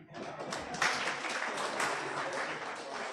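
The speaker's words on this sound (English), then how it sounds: "A round of applause for the young man." Audience applause at a weekly press and public engagement event, a sustained wash of clapping from a crowd that swells slightly and holds steady.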